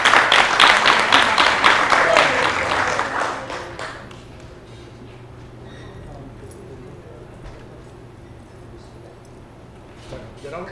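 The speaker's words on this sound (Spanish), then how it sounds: "un aplauso para él" An audience applauds a speaker at a talk on foresight and global megatrends, a brisk burst of clapping for the first few seconds that then fades away, leaving a quiet room.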